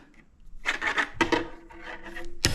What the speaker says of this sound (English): this is an 1/8 inch welding rod. And just using the dikes to cut it